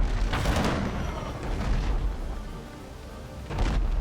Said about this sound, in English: And the mortar.